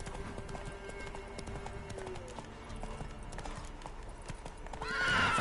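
Roach the horse galloping in The Witcher, quick steady clip-clop of hooves carrying on for several seconds, ending in a loud whinny.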